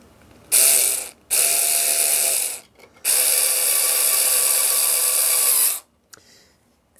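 Power screwdriver driving screws to fasten model railway flex track on a large curved helix, loud whirring bursts with ratcheting clicks, three close runs, the last and longest about three seconds, no talking.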